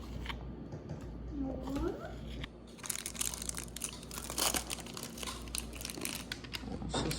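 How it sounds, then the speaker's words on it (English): A plastic Ziploc bag crinkling and rustling close up as batter for a high-protein keto cereal is spooned in, irregular crackles over a quiet kitchen hum, with someone talking softly part of the time. "She's putting it in a Ziploc bag."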